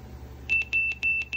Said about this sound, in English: it beeps when it gets to max volume